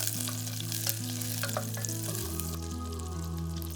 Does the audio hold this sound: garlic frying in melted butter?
yes